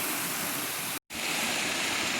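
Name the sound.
small waterfalls on a stream, Zoar Trail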